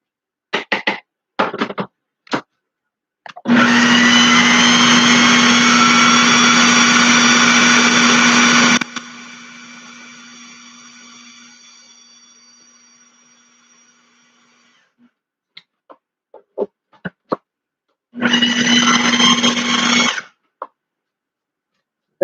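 A kitchen blender pulsing garden relish ingredients on its thickest setting, loud whirring bursts with a long run in the middle and a short burst near the end, separated by quiet gaps with small clicks and knocks.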